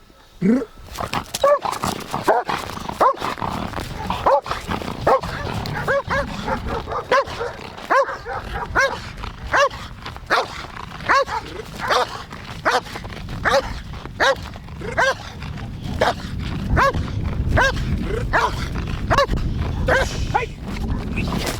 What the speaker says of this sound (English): the dog is to engage and go into gripping behavior on the decoy